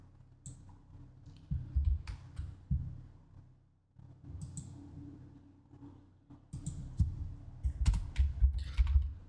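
Typing on a computer keyboard: quiet, steady clusters of soft key taps in irregular bursts, with short pauses, close and alone without talk.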